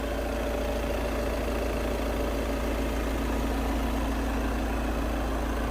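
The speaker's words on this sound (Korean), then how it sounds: "디젤차의 정상적인 엔진 소리 확인하세요" A Volkswagen CC diesel engine idles steadily at close range, heard from outside the car, a constant low rumble with no pauses or voices.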